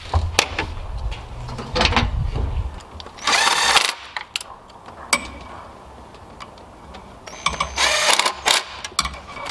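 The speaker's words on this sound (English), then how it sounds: "Then you can go ahead and tighten them all back up." Ratcheting on 10mm nuts that hold the coil packs of a Jeep 3.7L Powertech V6 comes as close, rapid clicking bursts with short pauses between them, and no talking.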